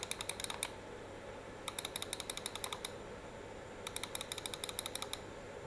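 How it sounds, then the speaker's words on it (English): Three quick bursts of rapid, crisp little computer mouse clicks, separated by pauses, over a faint steady hum of a CPU fan. "you can compare the CPU fan noise with my mouse click"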